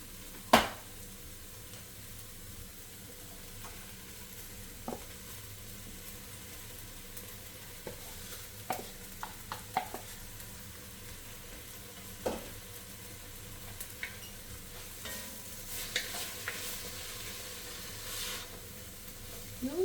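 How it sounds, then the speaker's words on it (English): Peppers hiss and sizzle faintly after being added to a pot for chickpea noodle soup. A low, steady frying hiss runs throughout, broken by scattered soft clicks and stirring taps. "we're gonna go ahead and add our peppers"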